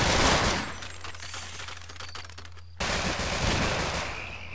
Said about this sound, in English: Shooting from afar!